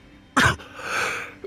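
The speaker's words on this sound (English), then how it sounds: "I'm gonna cough, guys, my bad." A single loud human cough, sharp and close, with a throat-clearing rasp trailing after it.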